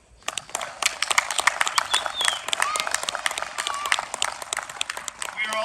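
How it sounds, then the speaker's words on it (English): Crowd applause at an outdoor poetry evening in Victoria Park, Cobourg, steady scattered clapping from a modest audience that holds throughout at moderate volume. "let's make a round of applause."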